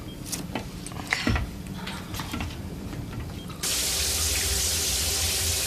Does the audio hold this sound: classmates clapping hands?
no